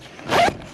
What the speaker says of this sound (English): Already, that's as high as the zipper will open.